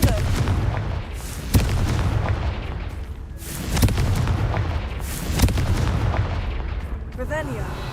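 Repeated blasting-spell explosions in a video game, several loud booming bursts at uneven intervals over a low rumbling background.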